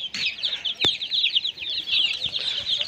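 Backyard hens and aseel-type chickens cluck and chirp continuously at close range, with a sharp knock or wing flap partway through.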